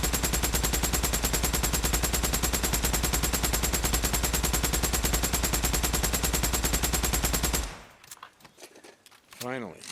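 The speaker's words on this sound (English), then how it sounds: "I was firing into the lake and ended up firing up into the trees." An M50 Reising submachine gun fires in Days Gone in one long, rapid, sustained burst of loud, evenly spaced shots lasting several seconds. It stops abruptly, leaving quieter scattered game sounds.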